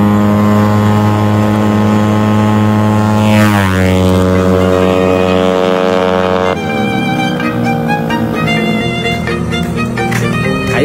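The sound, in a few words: Yamaha Nmax 195cc scooter engine revving on test drive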